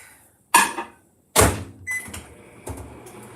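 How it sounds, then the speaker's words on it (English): A microwave door thumps shut, buttons beep, and a soft hum starts, followed by another small click. "I'm gonna put that in the microwave real quick."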